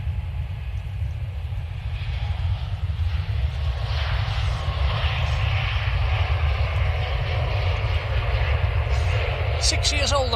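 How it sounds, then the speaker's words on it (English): An IndiGo Boeing 787 Dreamliner, six years old and bound for Delhi, begins its takeoff roll at Manchester Airport. A steady low engine rumble builds in the distance while someone talks over it throughout. "Okay, Indigo lined up and just starting to roll actually."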